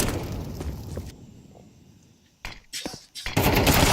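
Grenade blasts in a Counter-Strike match: a broad rumbling burst fades out over the first second, then several sharp, loud explosive cracks and heavy booms cluster near the end, close and intense.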